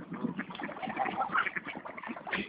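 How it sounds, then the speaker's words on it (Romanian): Ducks quacking on water, joined by pigeons nearby, in a steady busy mix of calls throughout. The birds sound fairly close and keep up a continuous chatter. "O bate, o bate, ai văzut cum bate rățuștile"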